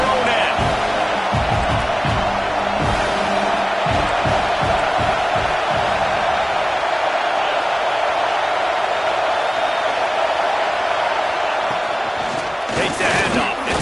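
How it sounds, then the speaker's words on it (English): A stadium crowd at a Nittany Lions football game keeps up a loud, continuous roar for the whole stretch, with scattered thumps and shouts early on and a louder swell near the end. "The roar of the crowd trying to fuel this defense to keep them pinned in their own end."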